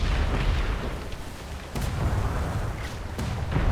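Ship cannons firing at enemy masts during a naval battle in a video game, heavy booming blasts rolling over a continuous rumble, loud and close with no talking.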